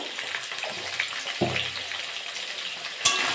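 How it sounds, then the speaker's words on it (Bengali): Potatoes seasoned with salt and turmeric fry in a pan with a steady, dense sizzle, broken by a soft low thump partway through and a sharper clatter near the end. "আলুগুলো ভালো করে ভেজে নেব।"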